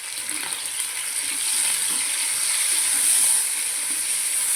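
Garlic paste with mustard seeds fries in hot oil, a dense, steady sizzle that holds close and even for the whole stretch, with no talk over it.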